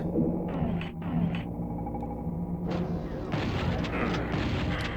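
Enemies fire on the player in Doom 64, with dense, overlapping game gunfire and booming blasts sounding continuously over a low rumbling soundtrack and no pause.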